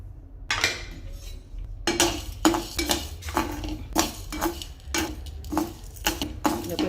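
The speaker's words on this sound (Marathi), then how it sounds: "आता आपण जी अर्धी वाटी चणा डाळ घेतलेली आहे तर ती पण टाकून घ्यायची आहे आणि त्यातच तांदूळ पण टाकून घ्यायचे आहे." Chana dal and rice are tipped into a pan and stirred with a metal spoon, producing repeated sharp clinks and scrapes against the pan in an irregular rhythm, close and fairly loud, with a voice speaking.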